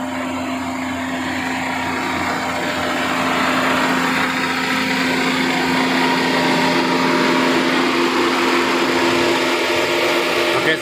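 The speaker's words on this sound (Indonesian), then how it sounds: "ini kondisi untuk suara mesinnya ya" Modified Opel Blazer engine idling, heard from the open engine bay: a steady, smooth hum with a constant tone and broadband mechanical whir, moderately loud and unbroken throughout.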